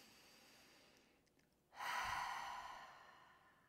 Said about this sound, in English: we're taking that cleansing breath